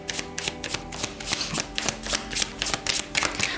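Tarot cards shuffled by hand in a steady run of crisp riffling bursts, close and fairly quiet, with no voices over them.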